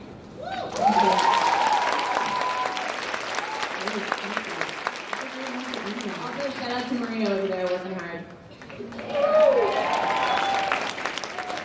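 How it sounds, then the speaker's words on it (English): An audience at a ClexaCon 2018 convention panel claps continuously throughout while a nearby voice talks over the applause, which swells again toward the end. "let's give one last round of applause for Anna"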